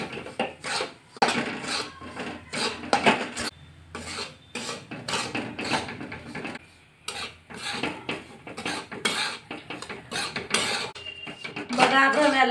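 Semolina roasting in hot ghee in a pan gives off close, rhythmic scraping and rasping as a spoon drags through it in repeated strokes, with brief pauses between bursts.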